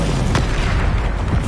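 A loud, dense booming blast from the Confringo explosive spell during a troll fight in the video game Hogwarts Legacy, with continuous rumbling noise throughout and a sharp burst near the start.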